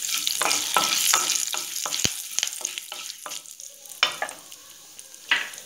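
Curry leaves and turmeric sizzle in hot oil with mustard seeds and cumin, a loud steady crackle broken by repeated scraping stirs and one sharp low thump, with no talking.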